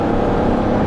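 A Nissan X-Trail's engine drones steadily like a generator, a close, constant broadband hum with no talk over it.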